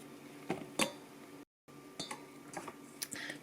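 A knife chops mushrooms in a kitchen, sounding as a few sharp, quiet taps against a cutting board, spaced irregularly, with a brief silent gap partway through.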